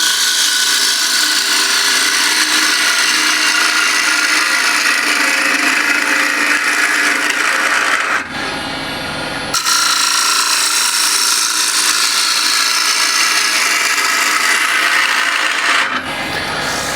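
A scraper cuts the inside bottom of a roughly 12-inch walnut bowl spinning on a wood lathe, giving a steady, loud rasping hiss that drops out briefly twice before resuming.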